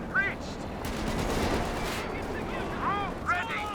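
Rifle and machine-gun fire crackles through a Company of Heroes 2 battle as Cavalry riflemen cut down Volksgrenadiers, a dense steady barrage with sharp ricochet-like whines near the start and end, under a commentator's voice.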